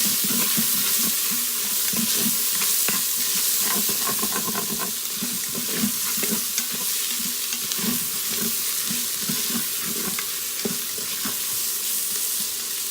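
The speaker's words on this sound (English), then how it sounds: "They're still sauteing up really good." Food sautéing in a pan on a keto meal cook, a continuous close sizzle with repeated rhythmic scraping and stirring strokes throughout.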